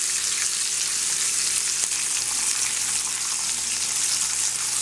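A large deep-sea fish steak sizzles and fries in oil in a crowded pan, a steady, dense crackle that runs unbroken and fairly loud throughout, with no voices.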